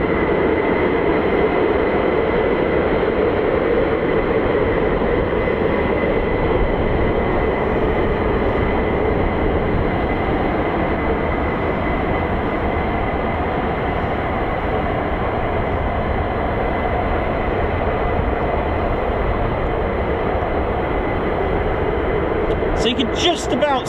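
An F-15E Strike Eagle fighter jet departing from an air base produces a loud, continuous broadband roar that holds steady for the whole span, with a brief crackle near the end and talk over it.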